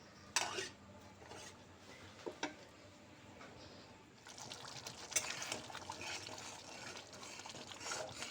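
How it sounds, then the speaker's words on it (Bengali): Whisked sour yogurt is stirred into a spice masala in a pan over medium heat while cooking okra masala, giving faint, intermittent wet scraping and clicking with soft liquid sloshing, close by and with no talking. "দিয়ে টক দইটা মশলার সঙ্গে খুব ভালো করে কষিয়ে নেব।"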